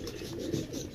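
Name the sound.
pigeons cooing, fancy pigeons in a loft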